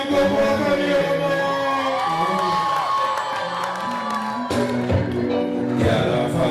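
Wedding guests cheering, whooping and shouting in a lively crowd, a loud sustained mix of raised voices and calls with some applause beneath, rising again near the end.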